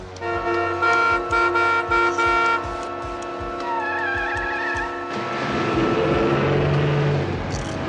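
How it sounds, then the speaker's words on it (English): A car horn sounds in a run of repeated loud honks during a police stakeout near a waterfront, blaring for the first few seconds, then giving way to engine and traffic noise with a brief horn-like tone near the end. "Hit the horn."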